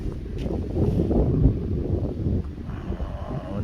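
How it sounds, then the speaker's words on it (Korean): Gusty seaside wind on an island beach roars and buffets the microphone, rumbling low and uneven, with faint rustling beneath. "어, 바람 소리 바람"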